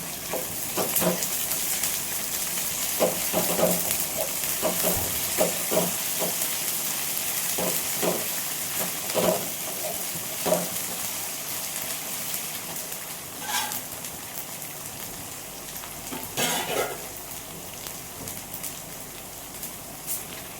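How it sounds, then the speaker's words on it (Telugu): Ginger garlic paste sizzles in a pan for chicken roast, a steady crackling fry with scattered pops and occasional stirring clicks throughout, fairly quiet and close. "అల్లం వెల్లుల్లి పేస్ట్ వేసి వేయించుకోవాలి"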